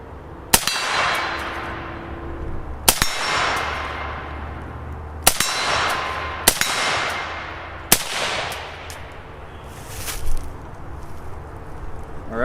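Rifle rounds strike a steel gong target at about 50 yards, giving five sharp metallic clangs several seconds apart. Each clang rings out and decays slowly, loud and close, with faint outdoor background noise.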